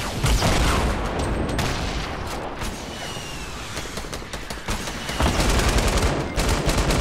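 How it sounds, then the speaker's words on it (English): Rocket launcher and gunfire in a video game battle, dense bursts of rapid shots and blasts crackling continuously at fairly loud volume with no talk. "Oh, they got a rocket launcher."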